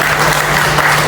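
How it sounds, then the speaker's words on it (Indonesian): Audience at a university film discussion event breaking into loud, sustained applause, a steady dense wash of clapping filling the whole moment. "Beri tepuk tangan yang meriah untuk kita."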